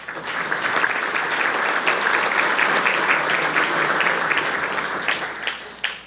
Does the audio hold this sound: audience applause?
yes